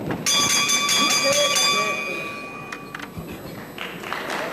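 A wrestling ring bell clangs once to end the first round of a bout, its bright ringing tone sustaining for a few seconds over crowd noise and commentary.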